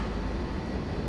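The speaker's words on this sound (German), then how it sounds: "Güterzug." A freight train passes in Train Simulator on the RE 50 route, a steady, full rumble of rolling wagons throughout, fairly close and continuous.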